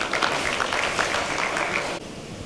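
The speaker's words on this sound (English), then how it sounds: "Can we have a huge round of applause," Audience applause at an education forum event as a speaker takes the stage, a dense, even roar of many hands clapping that cuts off abruptly near the end.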